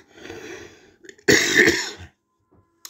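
A single harsh cough burst, preceded by a softer throat-clearing rumble, close and loud, then silence.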